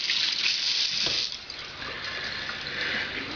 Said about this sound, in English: And a little rinse of water there.